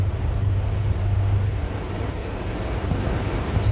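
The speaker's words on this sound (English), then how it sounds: "It is windy as hell." Strong wind buffets the microphone with a steady low roar and gusty rumble, continuous throughout with no talking.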